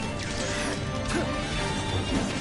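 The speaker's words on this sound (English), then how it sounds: "I love grabbing him and smashing him down like that" An enemy is grabbed and smashed to the ground in Final Fantasy XV, a crashing impact buried in a dense wash of loud game action, music and effects with no clear separate hits.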